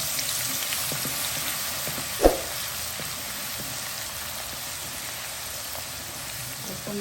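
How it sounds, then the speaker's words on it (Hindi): Steady sizzling of crushed garlic frying in hot desi ghee, with a brief sharp clink near the start, no voices. "अब ये पिसा हुआ लहसुन डालना है।"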